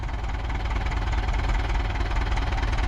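Kubota tractor engine running steadily under load while pulling a Ford 6610 tractor stuck in mud for two days; a continuous, loud low-pitched diesel drone with no talk over it.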